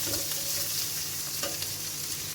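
Onions sautéing in a pan for a raw-banana masala fry, a dense, continuous close sizzle holding steady throughout with faint stirring touches and no talk.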